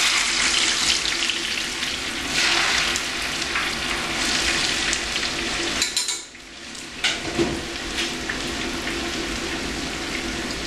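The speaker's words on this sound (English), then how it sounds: "you can see right now the chicken is boiling." Chicken bubbles and sizzles in oil in a small pan for a Vietnamese meal, a close, steady hiss of frying with a brief dip in loudness midway and no talk.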